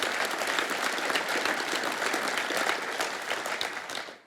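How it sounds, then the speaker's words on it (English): An audience at a summit applauds Montana Governor Gianforte with steady, dense clapping at moderate volume from a roomful of people, holding evenly for a few seconds before fading out. "let's give another round of applause and thanks to Governor Gianforte"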